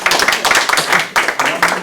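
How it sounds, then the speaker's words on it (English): An audience at a startup pitch event gives Tim a round of applause, brisk close clapping in quick bursts with a voice speaking over it. "Give Tim a round of applause"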